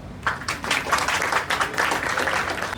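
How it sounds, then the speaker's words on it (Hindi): An audience at a school open day and farewell celebration applauds to welcome a student, a dense, close round of clapping that swells quickly and holds steady for a few seconds. "तालियों के साथ स्वागत करिए"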